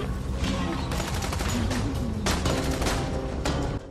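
In Tales from the Borderlands, rapid gunshots crack loudly in clustered bursts over dense game noise, firing several times over about four seconds.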